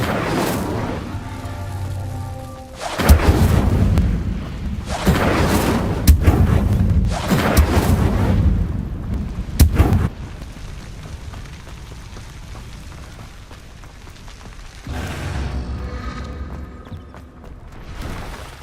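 Incendio fire spell cast in Hogwarts Legacy: several heavy booming bursts of roaring flame and impacts in quick succession, a quieter rumbling stretch, then another fiery blast near the end, loud and close.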